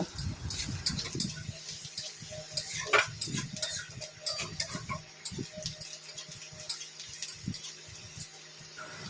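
Onion and garlic fry in oil in a pan and are stirred with a utensil, giving a soft sizzle under irregular scraping clicks and taps against the pan, close and continuous.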